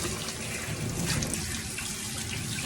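Tap water runs steadily from a faucet for rinsing, a close, continuous rushing splash with no pauses and no talking.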